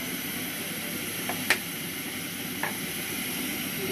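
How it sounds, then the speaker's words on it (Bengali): Cooking oil hisses and sizzles steadily in a pan, heated for frying pabda fish, with a couple of brief sharp clicks over the constant frying noise. "আমি এখন পাবদা মাছের জন্য তেল দিয়ে দেবো একটা প্যানে"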